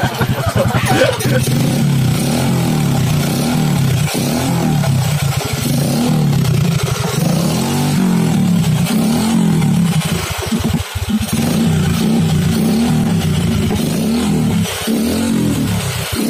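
A Honda XRM 125 motorcycle, left sitting unused for weeks, runs after being started, its small single-cylinder engine holding a loud, close, steady idle with some mechanical clatter and a few brief revs throughout.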